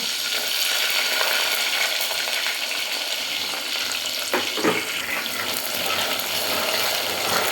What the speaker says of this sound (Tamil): கடுகு போட்டுக்கிட்டோம், சாம்பார் வெங்காயம் போடுறோம்